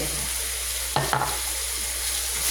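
Bean sprouts with chicken blood sizzle steadily in a hot pan, a continuous frying hiss broken once by a brief scrape and clatter of stirring.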